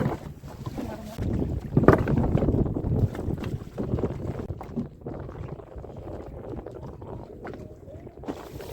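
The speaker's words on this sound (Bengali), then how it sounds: "একটু ঢেউ আর হাওয়া লাগছে বেশি এখানে" Wind and waves buffet a small fishing boat out on the water while line fishing with hooks, giving a rough, rumbling rush of gusts and sloshing close to the microphone, louder at first and then easing.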